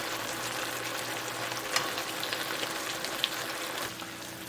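Fish sizzles and fries steadily in a hot pan with a curry base of added water, a continuous close crackle with a few sharper pops and no talk.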